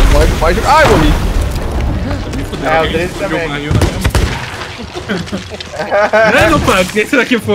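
A gunpowder barrel blows up in the pirate game Sea of Thieves, a booming blast heard under and between excited Portuguese chatter from several players, with more muffled bangs scattered through the noisy game audio.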